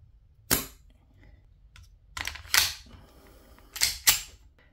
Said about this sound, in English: With my Resident Evil Beretta. This also uses green gas and 6mm plastic BBs.